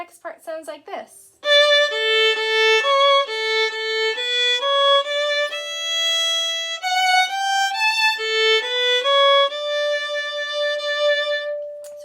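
Solo violin plays the next section of the Chocolate Fiddle Song after a brief bit of sound at the start, a close, bright run of bowed notes in an even rhythm.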